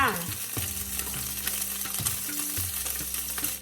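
Garlic fries in a hot pan for glass noodles baked with shrimp, crackling and sizzling loudly up close, with clanks of a utensil stirring and scraping against the metal.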